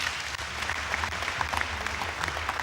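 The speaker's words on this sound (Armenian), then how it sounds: "Եվս մեկ անգամ ջերմորեն ծափարենք" Audience applause fills a ceremony hall honoring a hospital director in Goris, a dense, steady clatter of many hands clapping continuously throughout, fairly close and with no voices over it.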